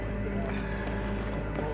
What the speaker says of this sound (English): I'm just gonna go ahead and run it. Engine started!